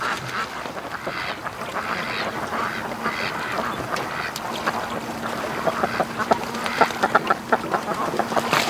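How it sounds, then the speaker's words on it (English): Ducks on the water beside a small boat give a run of quick, close quacks that grow busier toward the end over a soft outdoor background, with no talking. "Oh, a little bit of duck action."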